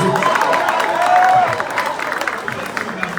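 Audience applause for a musician at a live konpa concert, a steady wash of clapping and crowd noise carrying on for several seconds at moderate loudness.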